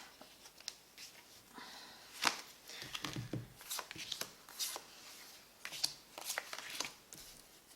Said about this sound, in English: I'm sitting here shuffling